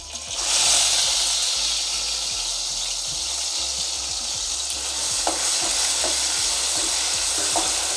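Red chili masala paste hitting hot oil with browned garlic for a Malvani bangda fish curry, giving a loud, steady hissing sizzle up close while a spoon scrapes and taps the pan in repeated strokes.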